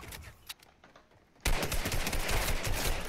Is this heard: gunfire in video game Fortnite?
yes